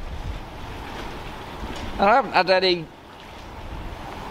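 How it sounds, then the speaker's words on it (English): Steady wind blustering by open water at Town Quay, Southampton, a constant rushing noise, with someone briefly speaking over it in the middle. "It's a little bit windy here because we've moved away from the shelter of the building."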